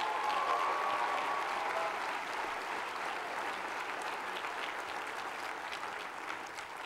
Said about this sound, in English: I think they deserve another round of applause before we move forward.